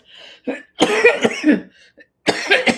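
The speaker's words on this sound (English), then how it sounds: "sorry for coughing" A person coughs in a harsh, close fit of several bursts with brief gaps, loud and raspy, alone without talk.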